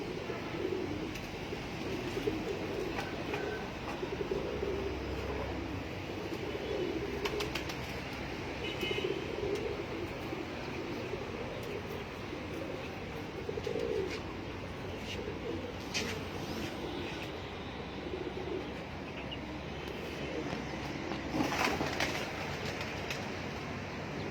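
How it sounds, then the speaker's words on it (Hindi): Low, soft cooing from a pigeon sitting on a rooftop repeats steadily through a busy, noisy outdoor background, with occasional faint rustles and distant hum. "ये देखें जी कबूतर तकरीबन बैठने पे आया हुआ है"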